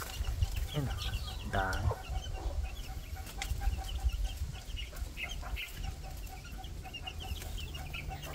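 Rhode Island chickens cluck and chatter close by in a farmyard, with scattered squawks over a busy flock, while someone briefly speaks.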